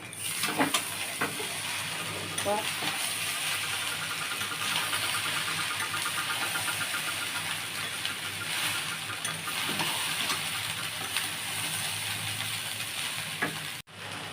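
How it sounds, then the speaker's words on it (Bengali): Cashews and raisins fry in ghee with a constant, fairly loud sizzle, and a few stirring clinks come early on. "আমি একটু নাড়বো বন্ধুরা"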